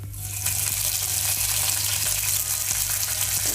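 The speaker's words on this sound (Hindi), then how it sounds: "कड़ी पत्ता थोड़ा सा मैं डालूंगी" Curry leaves crackling in hot oil with urad dal, a loud, dense, continuous sizzle that rises sharply at the start and stays steady and close, with no voices.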